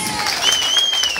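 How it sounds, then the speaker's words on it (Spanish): An audience claps in a steady burst of applause, fairly loud and continuous throughout. "Un aplauso bien fuerte para ella."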